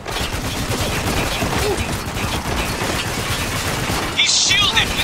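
Gunfire in Spec Ops: The Line comes as dense, rapid overlapping shots and bursts in a chaotic firefight, loud and continuous, with shouted voices mixed in.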